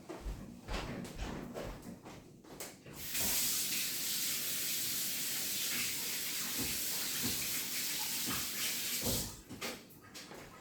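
Hands are rinsed under a running kitchen tap while cooking wagon wheel pasta, a steady broadband splash of water lasting several seconds. Brief clinks and handling sounds come before it, and no one speaks.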